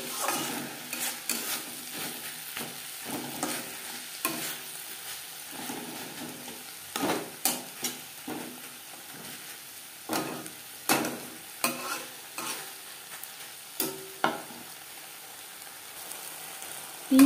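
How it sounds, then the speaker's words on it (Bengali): Spring onion stalks with spices frying in a pan while being stirred, a constant low sizzle punctuated by repeated sharp scrapes and clinks of the utensil against the pan. "মশলার সাথে পেঁয়াজ কলি নাড়াচাড়া করে নেব।"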